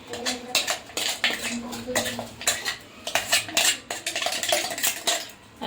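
Corn bhajiya ingredients being mixed in a metal bowl, with a spoon scraping and clinking against the sides in quick, uneven strokes, close and fairly loud throughout.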